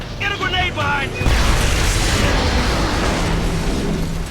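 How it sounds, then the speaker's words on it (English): A grenade detonates in the video game Homefront: a heavy boom bursts in about a second in, then a loud, rumbling wash of debris and noise carries on without pause. "Get a grenade behind you!"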